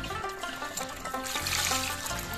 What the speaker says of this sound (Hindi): इसका पानी हमें निकाल देना है।